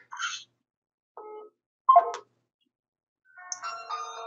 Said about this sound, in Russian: Кто-то пытался позвонить и отключился.